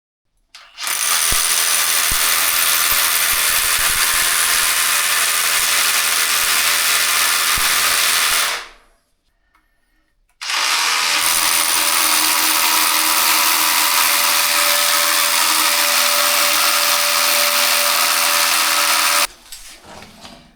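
Power drill boring bolt holes into cave rock, a loud steady whine for about eight seconds, a short pause, then another long continuous stretch of drilling before it cuts off.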